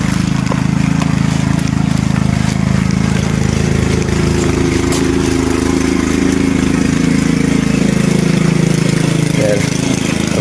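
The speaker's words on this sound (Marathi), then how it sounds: "बघा चालू केल्याने ट्रॅक्टर" A tractor engine idles steadily throughout at a Maharashtra village farm during the rainy-season rice planting, a constant low rumble under occasional talk nearby.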